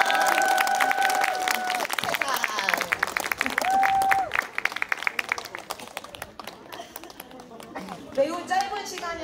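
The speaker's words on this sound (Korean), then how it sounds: "큰 박수 부탁드리겠습니다" An audience at a village arts presentation in Ayajin claps in a loud, dense burst, with tonal voices and chatter over it, and the clapping thins out toward the end.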